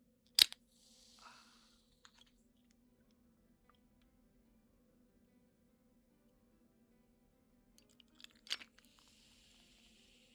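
Energy drink ASMR: a sharp can-opening crack and fizz near the start, then near silence, then another crisp snap with a hiss of fizz toward the end, close and quiet.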